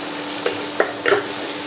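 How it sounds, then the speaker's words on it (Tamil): Finely chopped tomatoes stirred into a pan of frying onions and spices for soya chunk biryani, a steady soft sizzle with a few brief scraping stirs of the spoon, close by and without talk. "நல்லா கலந்து விடுங்க."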